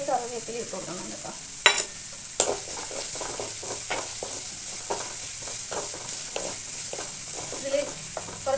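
Curry leaves fry in sesame oil in a pan previously used for frying beef, with a steady close sizzle and repeated scraping stir strokes and a couple of sharp clinks.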